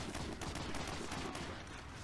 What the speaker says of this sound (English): when you pop out of cover, the machine guns will aim at you